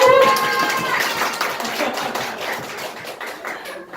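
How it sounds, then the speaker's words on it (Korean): A group of people applauds together in a center gathering to welcome first-time visitors, a busy burst of overlapping claps that thins out over a few seconds, with a brief tone or voice at the very start. "환영한다고 정말 같이 한번 크게 박수 한번 쳐드릴게요."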